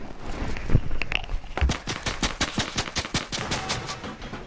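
Video game gunfire rattles out in rapid, loud bursts of automatic shots, with repeated volleys close by and no talking over them.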